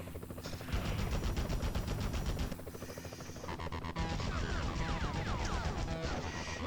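Enemy machine-gun fire rattles in rapid bursts in the 2000 Spider-Man video game, dense and continuous, mixed with crashes and other game effects and a brief pause near the middle.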